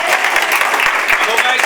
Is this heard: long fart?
no